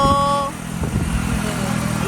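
A motorcycle engine runs steadily with a low drone, close by, on a ride through hilly country, and a voice speaks briefly at the start.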